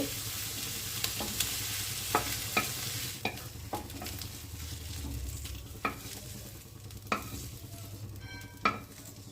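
Spring onion, cauliflower and beans fry in a pan with a steady, close sizzle, broken by repeated sharp clicks and scrapes of stirring at irregular intervals.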